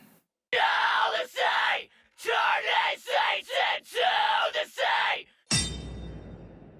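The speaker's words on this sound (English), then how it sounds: "Got some cleans and screams in there." A metal song chorus in a rough mix carries loud screamed vocal phrases in rhythmic bursts with short gaps, ending abruptly into a sharp crashing hit that rings out.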